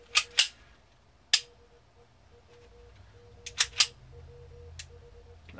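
Ruger Mark III Hunter pistol fitted with a new trigger and bolt disconnect, dry-fired with no magazine: a handful of sharp, close mechanical clicks in separate pairs and singles over a quiet background.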